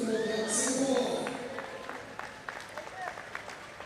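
Albirex Niigata football fans at a Singapore Premier League match applaud and cheer their runners-up team, a broad crowd roar that fades under an announcer's voice while scattered claps continue.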